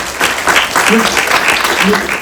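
Audience applause at the opening of the Somali Week Festival in London, a dense rolling patter of clapping with voices and cheers mixed in, fairly loud and steady for a couple of seconds.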